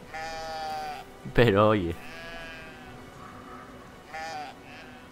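A sheep bleats loudly once in the video game Brothers: A Tale of Two Sons, amid a game music drone, with someone talking softly before and after.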